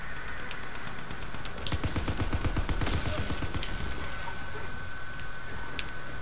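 Rapid bursts of gunfire from Call of Duty: WWII Zombies, dense repeated shots peaking in the middle then thinning out, loud and continuous under game noise.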